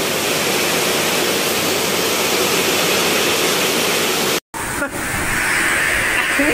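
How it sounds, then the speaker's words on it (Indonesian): A strong wind roars in a heavy rainstorm in Lampung, with a dense, loud, constant rushing wash broken by one brief dropout near the end. "Anginnya kenceng banget ya Allah."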